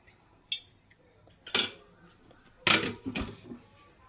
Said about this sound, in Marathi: मी एक कढई घेतली आणि त्याच्यात एक पळीभर तेल घालते